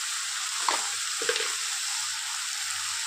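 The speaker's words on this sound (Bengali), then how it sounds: "এবার দিয়ে দেবো ভেজে রাখা চিংড়ি মাছ।" Prawns fried earlier with salt and turmeric drop into a pan of frying mocha (banana blossom) curry, giving a steady close sizzle with a couple of soft stirring scrapes.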